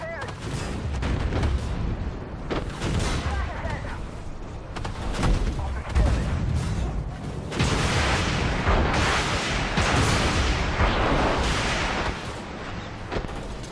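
Loud tank cannon shots and heavy booms from a tank video game with a Challenger 2 and Leopard tanks, the blasts repeating irregularly over continuous rumbling battle noise.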